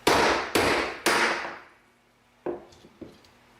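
Three sharp metal hammer strikes on a centering die punch, cutting a washer for a pendant, in quick succession, each ringing briefly, followed by a pause and two lighter taps.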